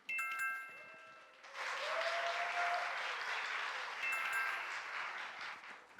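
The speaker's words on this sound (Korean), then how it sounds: "우리 능인 고등학교 친구들을 힘찬 박수로 맞아주시기 바랍니다." A school audience claps loudly to welcome the Neungin High School team at a youth mock-trial competition, sustained applause over soft background music, with a short burst at the start.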